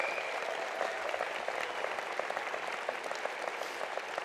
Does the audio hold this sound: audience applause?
yes